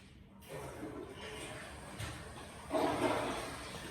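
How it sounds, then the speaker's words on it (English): Toilet flushing in a home office bathroom, heard from a short distance: a sudden rushing gush that swells, then a louder surge of swirling water near the end as the bowl drains. "That was me flushing my toilet in my home office."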